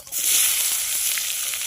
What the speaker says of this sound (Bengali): কড়াতে তেল দিয়ে দিচ্ছি এবার ফোড়নটা দিয়ে দেবো মাংসটা বসানোর জন্য তেজপাতা জিরে ফোড়ন পেঁয়াজ দিয়ে দেবো